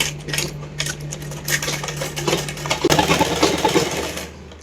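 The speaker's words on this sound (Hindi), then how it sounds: "यहाँ पर एक सिलाई लगा लेंगे इस तरह से" A sewing machine stitching suit fabric, running as a fast even mechanical rattle close to the mic that keeps going and grows a little louder near the end, with no one talking.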